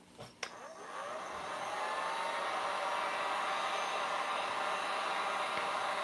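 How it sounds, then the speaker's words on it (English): After a couple of brief clicks, a heat gun switches on and runs with a steady whirring blast while drying a coat on an upcycled tin can, holding constant and close for the rest of the clip. "And then again, I'm going to get my heat gun out."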